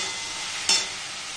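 Egg curry masala with a little salt stirred in a pan: a steady broadband sizzle throughout with one brief, sharper scrape of the spoon partway through, no voices.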